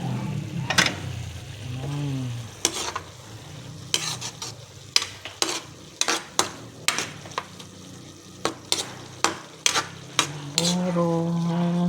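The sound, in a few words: stirring cooking food in a pan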